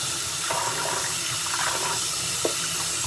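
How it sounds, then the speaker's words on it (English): Running tap water rinses a scrubbed dish at a kitchen sink, a continuous, fairly loud gush and splash that holds steady throughout, with no voices. "then you rinse it off"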